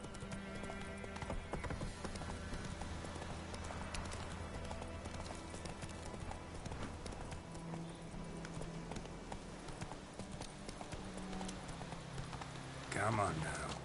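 Roach, the horse in The Witcher 3, trotting with steady clip-clopping hooves under a patter of rain. A short whinny comes near the end and a voice talks over part of it.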